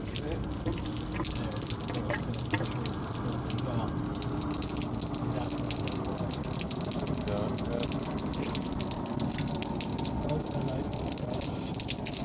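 Dirty water gushing steadily as it is flushed through the heater matrix of a Toyota Supra, a continuous close rush and splash with faint voices underneath throughout.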